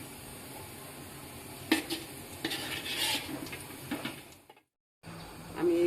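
Fried onions are lifted from hot oil in a pan: soft sizzling with a few sharp utensil clinks and scrapes, a brief drop to silence, then the frying hiss returns.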